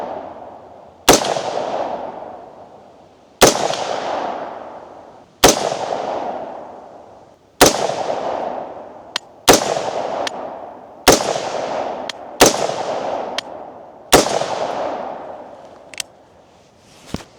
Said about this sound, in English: We're gonna shoot in this top left corner here where there's no shots